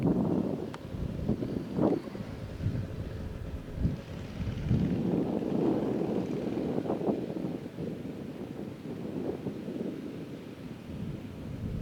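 Wind at a lakeside campsite buffets the microphone, rumbling low and gusting unevenly throughout, loud and close with no clear voices.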